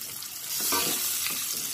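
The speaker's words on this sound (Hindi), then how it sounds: "अब तड़का देखिए हमारा भुनकर अच्छे से तैयार हो गया है।" Whole spices and red chillies frying in hot oil for a tadka, cooked for Indian dal dhokli; a steady close sizzle that swells after the first half-second and holds, with faint stirring and no talk.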